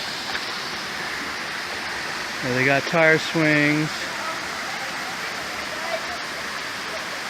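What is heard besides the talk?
small waterfall in the Philippines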